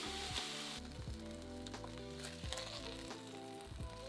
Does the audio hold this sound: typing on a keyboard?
no